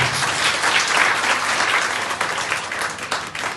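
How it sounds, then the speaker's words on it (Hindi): Loud, dense applause from the audience at a women entrepreneurs' program, many hands clapping at once in a sustained roar that thins slightly toward the end. "आप सबके लिए जोर से तालियां बजा रहे हैं।"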